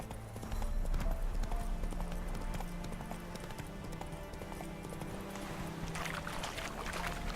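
Roach, Geralt's horse in The Witcher 3, trots with a steady, continuous clip-clop of hooves that holds through the whole stretch, fairly close and loud, with game ambience underneath and no voices.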